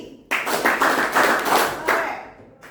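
A classroom of children clapping together in a call-and-response clap game, a quick burst of rhythmic group claps of five or six beats, close and fairly loud, then stopping abruptly.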